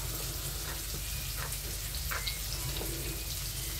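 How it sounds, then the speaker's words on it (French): Onions frying in a pan give a constant dense sizzle that fills the clip, steady and close, with a few faint pops and clicks. "J'attends que mes oignons cuisent bien."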